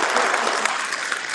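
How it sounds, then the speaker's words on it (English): Brief burst of audience applause at a gathering, dense and steady clapping for a little over a second. "Give Christy a round of applause."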